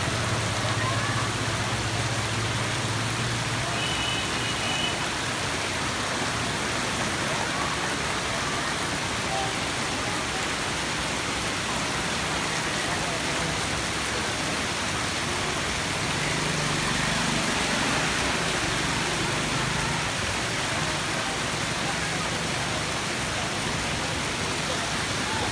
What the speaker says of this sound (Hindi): बारिश देखें कितनी तेज़ है